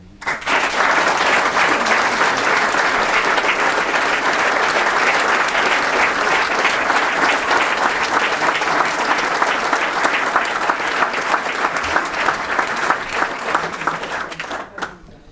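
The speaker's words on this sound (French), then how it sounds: "je vous demande de les applaudir." An audience at a municipal council installation meeting breaks into sustained, dense applause, loud and even throughout, with a few louder claps as it tapers off at the end.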